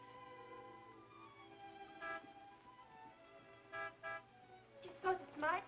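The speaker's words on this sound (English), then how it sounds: "Martin would never honk a horn at a lady." A car horn outside honks in short bursts, several toots spaced over a few seconds, heard over a steady background hum in a 1940s film scene.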